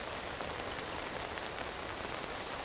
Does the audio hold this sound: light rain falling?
yes